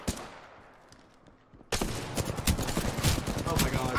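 Gunfire in the video game Apex Legends: after a quiet opening, rapid bursts of shots crack out in quick succession and keep firing to the end, with voices talking underneath.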